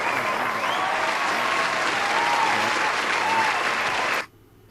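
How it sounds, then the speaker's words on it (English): An audience gives itself a sustained round of applause, an even, full crowd clapping that holds steady for about four seconds and then cuts off abruptly into near silence. "you deserve to give yourselves a round of applause"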